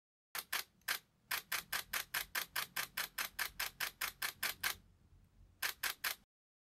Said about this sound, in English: That was a shutter sound demonstration